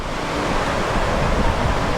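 Ocean waves wash onto the shore at Wilbur-by-the-Sea, a steady loud rushing surf mixed with wind buffeting the microphone, no voices over it.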